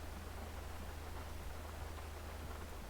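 Rain falls steadily in a video game, a dense, even hiss with no breaks, fairly faint, over a low constant hum.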